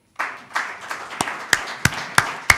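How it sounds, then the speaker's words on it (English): A conference audience applauds panelists, the clapping starting softly and building into a string of sharper, spaced claps over a couple of seconds. "the only thing that we need to do is now to applaud them"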